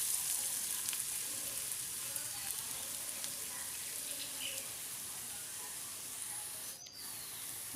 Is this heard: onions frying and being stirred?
yes